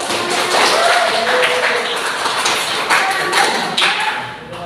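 Students in a classroom applaud, a dense burst of clapping lasting several seconds and tapering off near the end, with a few voices mixed in.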